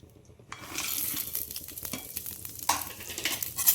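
Cashews, almonds and raisins sautéing in hot ghee, a soft crackling sizzle that starts after a quiet moment, with stirring scrapes and clinks in the pan.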